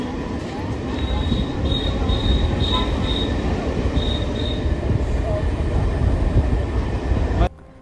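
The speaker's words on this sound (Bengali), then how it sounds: "এই মুহূর্তে আমাদের ট্রেন দাসকল গ্রাম স্টেশন ক্রস করে যাচ্ছে।" A moving passenger train rolls through Dashkal village station on a trip to Mayapur, heard from on board with a loud continuous rumble and intermittent high wheel squeals before the sound cuts off.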